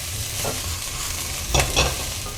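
Vegetables stir-fried in a hot pan, a continuous close sizzle with two quick spatula scrapes and tosses near the end.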